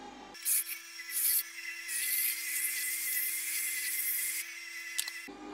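A bench sharpening grinder for round chisels switches on and its grinding stone spins with a steady, even motor hum for about five seconds before cutting off, a few faint clicks sitting over the drone.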